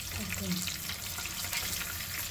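Stuffed bitter gourd frying in hot oil in a pan gives a continuous close sizzle and hiss, with faint stirring scrapes and a voice briefly present.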